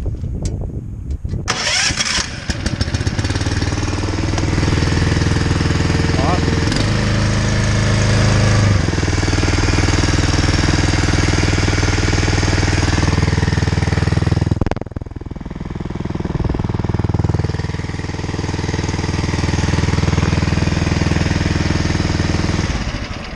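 A small engine fitted with a pulse fuel pump and fuel cell, choke on, starts up and then runs steadily with a loud, close, droning idle that rises and falls slightly, with no voices.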